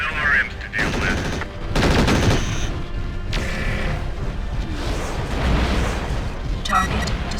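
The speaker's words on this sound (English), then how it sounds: "Hey, we're taking fire. Looks like we've got some LRMs to deal with." Rapid bursts of LRM missile fire and mechanical weapon clatter from the MechWarrior 4: Vengeance video game pound in dense, loud waves, with a voice talking over the action.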